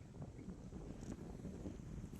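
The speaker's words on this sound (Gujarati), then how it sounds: "મસ્ત મજાનો પવન આવે છે" Wind rushes steadily across the microphone, a low continuous buffeting roar with no voices, fairly faint overall.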